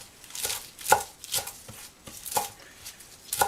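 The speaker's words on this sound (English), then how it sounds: "you just chop finely." A knife chops recao, a herb for sofrito, finely on a cutting board: quick repeated crisp taps in an uneven rhythm, close and clear with no talking.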